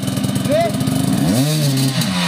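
Dirt motorcycle engine revving up and dropping while wedged between rocks on a brutal Orehovo off-road trail, loud and near, with a person shouting over it.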